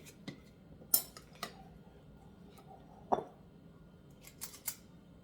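A lid set onto a pot of fluffy dumplings on the stove: a few sharp, light metallic clinks and taps spaced apart, close by in an otherwise quiet kitchen.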